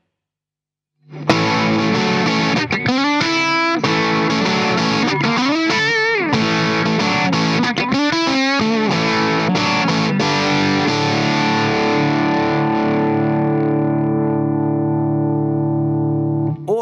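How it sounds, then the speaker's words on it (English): Electric guitar through an Engl 30W amp with a crunchy, lightly distorted tone, playing riffs and bends before a long sustained chord rings out and fades. "let's dial up a nice crunch tone"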